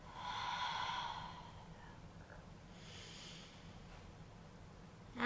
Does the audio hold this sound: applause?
no